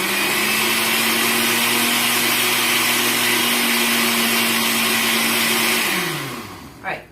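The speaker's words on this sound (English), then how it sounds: "So go ahead and stick it on the blender and put it on" Kitchen blender on its grind setting whirring loudly and steadily while blending gluten-free condensed cream soup, then winding down near the end, with a brief knock as it stops.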